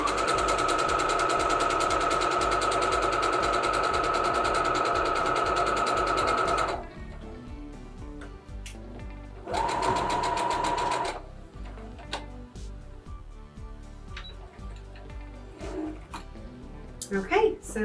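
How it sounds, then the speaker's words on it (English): A sewing machine stitches along the last edge of a fabric pillow in two runs, a long steady whir that stops, a short pause, then a brief second burst, close and clear. "start sewing"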